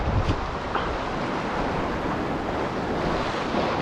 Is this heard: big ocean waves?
yes